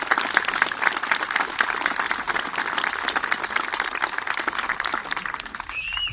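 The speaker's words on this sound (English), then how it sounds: "So I'd like if you give her a round of applause for the great work." Audience applause for an outgoing official at a Kilkenny hurling monument unveiling, steady dense clapping from a crowd sustained throughout at even loudness.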